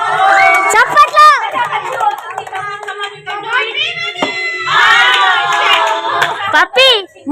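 Clapping and cheering break out at a New Year's Eve party during group games. Bursts of hands and excited shouts mix with children and adults talking loudly nearby.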